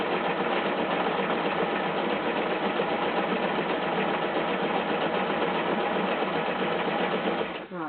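A sewing machine stitches fabric for an Easter bag, running in one steady, close, continuous burr that stops abruptly at the very end.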